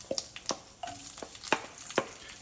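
Fennel seeds, mustard seeds and sliced coconut toast in a hot pan for a Kerala-style beef fry, a steady faint sizzle broken by several light clicks and scrapes as the mixture is stirred.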